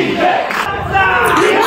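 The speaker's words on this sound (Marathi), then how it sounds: "हा नाटकानंतरचा जल्लोष आहे." A college crowd cheers and shouts after a theatre play, a loud, dense roar of voices that swells in waves, close and continuous.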